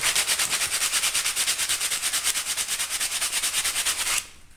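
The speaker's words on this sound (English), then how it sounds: "Give it a quick sand." Hand sanding along the chime of a wooden barrel, a rapid even rhythm of raspy back-and-forth strokes, close and steady for about four seconds before stopping.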